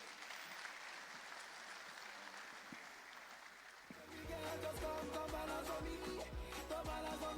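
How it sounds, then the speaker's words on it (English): Audience applause at a youth conference, faint, steady clapping for about four seconds before music with a strong beat comes in and takes over. "you can give them a round of applause as they go"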